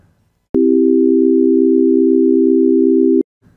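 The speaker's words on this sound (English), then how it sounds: "Now let's listen to C major chord played with tones in equal temperament." A steady synthesized C major chord of pure tones in equal temperament holds for almost three seconds with a slight wavering pulse of beats, starting and stopping abruptly.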